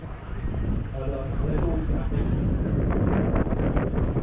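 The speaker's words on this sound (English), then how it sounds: "oh dear, it's windy, it's windy." Strong wind during a thunderstorm buffets the microphone in a loud, rumbling roar that grows through the clip, with a voice speaking underneath.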